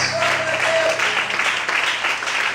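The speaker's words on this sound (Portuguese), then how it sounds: "As palmas." Steady crowd applause at a church service fills the whole stretch, a dense wash of clapping with a faint tone briefly sounding underneath.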